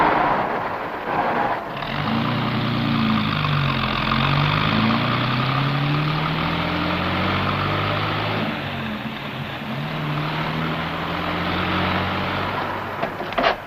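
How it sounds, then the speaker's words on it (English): A car engine idling and then revving as the car backs up in reverse around a big tree, a steady rumble with rising and falling pitch sweeps, close and loud, without talk. "Put it in reverse and back around that big tree."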